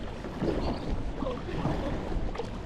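Paddle strokes of a Pelican Catch Mode 110, a 10-foot kayak, pushing against the wind, with steady water wash and wind noise on the microphone continuing throughout, no voices.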